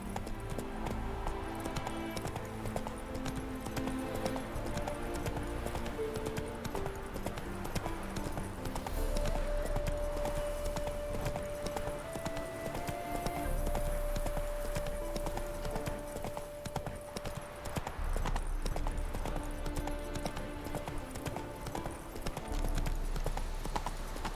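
Horse hooves clip-clop steadily on a road in The Witcher 3, a rhythmic gait under game music, with a sustained musical tone in the middle.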